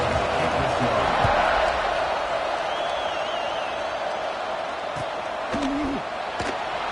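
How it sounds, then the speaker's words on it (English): Stadium crowd in the College Football 26 video game, South Carolina versus Alabama, a steady broad buzz of thousands of fans after a score, held at an even level throughout with faint thumps and a brief whistle-like tone. "this crowd is buzzing after that last score"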